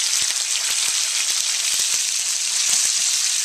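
Ground pork frying hard with spices that are browning, an intense close crackling sizzle broken by frequent sharp pops and spatters at an irregular rhythm.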